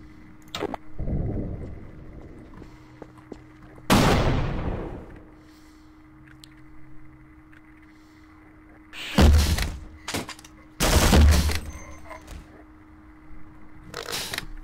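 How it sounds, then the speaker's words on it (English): Weapon fire from the video game Half-Life, with several heavy booming blasts and crashing impacts spread over a steady in-game hum, loud and irregular, with no speech. "Rocket launcher's not good for much."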